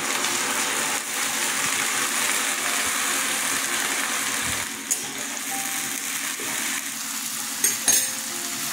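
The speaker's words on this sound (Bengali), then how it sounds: "পেঁয়াজটা কষানো হয়ে গেছে" Onions, garlic and ginger fry in a pan for aloo papad dalna with a loud, constant sizzle, and an occasional clink of stirring can be heard over it.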